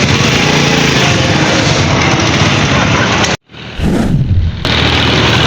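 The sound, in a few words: heavy motorbike engine on first test drive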